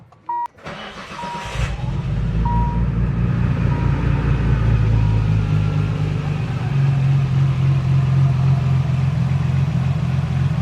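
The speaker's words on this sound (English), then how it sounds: "let's start the Z and see how these new cams really sound" A Nissan 300ZX with a swapped RB26 engine and new cams cranks briefly and fires up, then settles into a loud, steady, loping idle that rumbles on close by.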